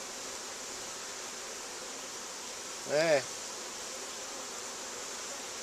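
Honey bees of Italian stock, some marked like wasps, buzz through a constant hum around an opened hive during an inspection; a short louder tonal buzz passes close by midway while a voice briefly speaks.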